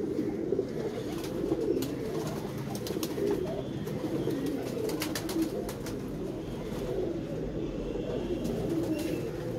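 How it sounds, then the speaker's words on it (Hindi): Pigeon cooing steadily and close over a noisy background, low soft coos repeating throughout with scattered chirps, at an outdoor spot where a caught pigeon is being handled. "फुल क्यारा कबूतर है।"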